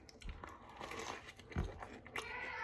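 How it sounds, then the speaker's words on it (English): Someone bites into a crusty cast iron pizza with a juicy, sloppy topping, giving a few close, crisp crunches followed by soft chewing. "Ah, perfect crunch, good flavor"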